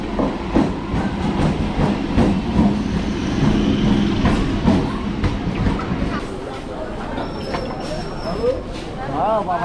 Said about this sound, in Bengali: ট্রেন আসবে 2-3 মিনিটের মধ্যে